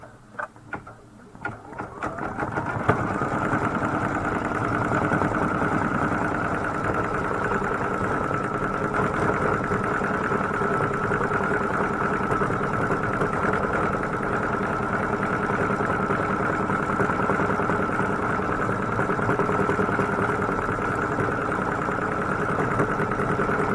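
An embroidery sewing machine stitches out a design on a Kimberbell Main Street Celebration pillow wall hanging, starting up after a few quiet seconds and then running in a steady, continuous mechanical whir with a fine rapid rhythm, close and alone.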